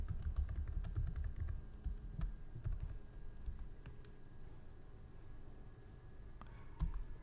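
Rapid keystrokes clatter on a computer keyboard as a password is entered, a steady run of close, quiet clicks with a couple of sharper key presses toward the end and nobody speaking.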